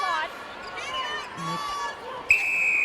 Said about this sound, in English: So the whistle goes for the end of the first quarter.